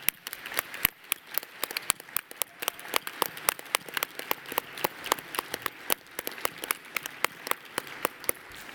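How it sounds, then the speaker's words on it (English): Scattered, sparse clapping at a trade union congress session honouring award winners, including the Women's Gold Badge, sounds as a light, uneven patter of individual claps rather than a dense ovation, moderately close throughout. "Congress, can we give all the winners a huge round of applause?"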